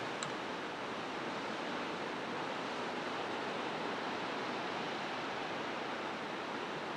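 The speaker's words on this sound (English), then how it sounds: "There you can see the waves coming in." Ocean waves rolling in to shore under a misty sea, a steady broadband roar of surf heard from a distance, continuous and even with no voices.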